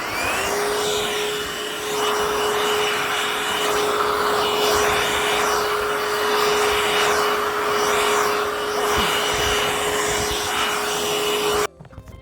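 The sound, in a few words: new cordless hoover vacuum cleaner running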